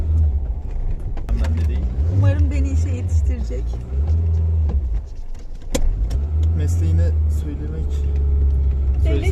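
A 1997 Renault Broadway drives along with a steady low engine rumble and road noise from inside the cabin, while people talk over it.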